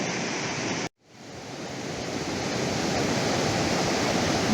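Ocean surf at San Carpoforo Creek beach roars as a broad steady wash, briefly cutting out near the start before swelling back to a loud continuous rush with wind in the microphone.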